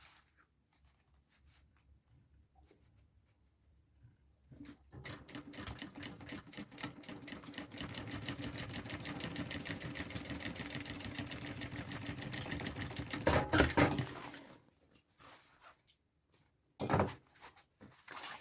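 A sewing machine stitches a bag lining in a quiet room, starting after a few seconds of near silence, running steadily with rapid needle clatter for about nine seconds, then stopping, followed by a short second burst.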